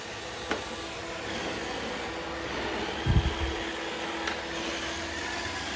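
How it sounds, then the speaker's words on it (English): An iRobot Roomba 675 robot vacuum cleaner runs indoors with a constant whirring motor hum and airflow noise, a faint clunk partway through as it bumps along, with no talking. "It's noisy, it's a vacuum cleaner."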